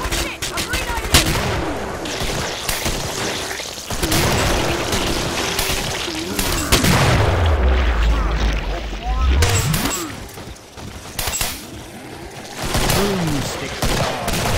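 Shotgun blasts from the Boomstick in the Killing Floor video game, firing amid a busy battle mix of other gunfire and game noise, with players shouting over it.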